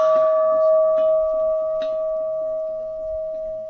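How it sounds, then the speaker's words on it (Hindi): Bell ringing at the Vriddh Jageshwar temple, holding a steady, sustained metallic tone with a couple of sharper strikes early on, while faint voices murmur underneath. "तो यह अद्भुत घंटी की आवाज़ आपने सुनी होगी।"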